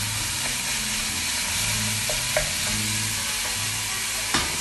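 Pork and beef mince for a ragu sizzling steadily in a pan as it starts to cook, a continuous frying hiss with occasional soft stirring scrapes and a couple of louder clinks, no talk.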